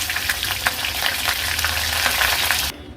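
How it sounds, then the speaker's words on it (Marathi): Close, steady sizzle of raw jackfruit frying in hot oil, with crackling pops throughout, cutting off abruptly just before the end. "आता उरलेला फणस देखील मी असाच तळून घेणार आहे"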